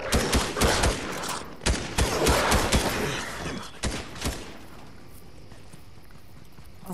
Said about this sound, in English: Someone over there shoot, using the submachine gun.